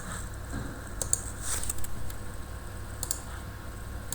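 Soft, quiet keyboard typing, a few scattered key clicks with brief bursts of taps, heard alone at a steady low level while a search term is entered into an NFT trading bot's front end.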